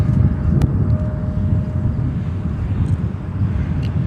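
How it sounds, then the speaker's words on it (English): A United Express CRJ 550 regional jet landing at Chicago O'Hare, heard as a steady, fairly loud broadband jet rumble with wind buffeting throughout, no talking. "for 10 Center will be another CRJ 550 from United Express."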